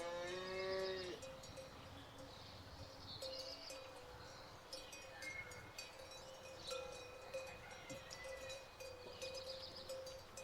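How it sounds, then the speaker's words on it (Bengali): Cattle moo several times in a quiet farm setting, where a calm bullock has stopped eating; the long lowing calls come at moderate distance, with occasional clip-clop and bell-like clanks between them. "গরু শান্ত আছে, আমি তো ভাবলাম তো বদমাস করবে বোধহয়।"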